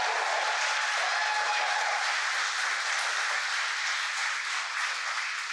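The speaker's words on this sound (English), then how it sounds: "as you can hear the cheering in the background" Launch control staff cheer and applaud after rocket stage separation, a continuous wash of crowd noise and clapping that stays steady and fairly loud, slowly easing off toward the end.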